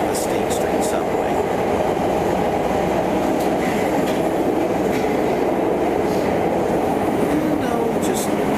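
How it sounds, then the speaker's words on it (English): A Chicago L subway train on the State Street subway, rumbling steadily with rail clatter and faint squeals throughout, close and continuous. "Okay, so now that's the end of the State Street subway."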